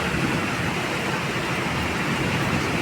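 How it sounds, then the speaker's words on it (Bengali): Heavy rain pours down steadily in a dense, unbroken roar with close splashing on surfaces, loud and constant from start to finish, with no voices. "অনেক বৃষ্টি হইতেছে, অনেক বৃষ্টি।"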